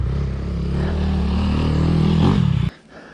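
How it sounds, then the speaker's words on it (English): A 2017 Yamaha YZ250F dirt bike ridden with a helmet-mounted camera, its engine droning close and loud, pitch climbing steadily before the sound cuts off abruptly near the end. "there's a little GoPro of me riding the YZ"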